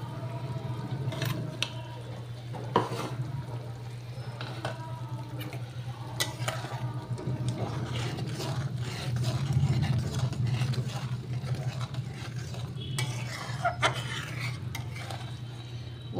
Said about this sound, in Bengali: দেখো বন্ধুরা, মশলাটা কষানো হচ্ছে, অনেকটাই হয়ে গেছে, তেল ছাড়তে শুরু করেছে